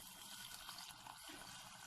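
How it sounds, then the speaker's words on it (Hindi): Lukewarm water poured into a pot of chana dal and half-cooked meat, a faint steady trickling and splashing stream heard alone. "तो अब इसके अंदर मैं पानी ऐड करूँगी"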